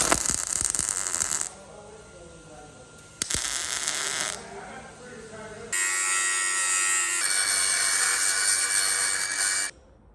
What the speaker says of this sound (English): I'm gonna weld this up for you.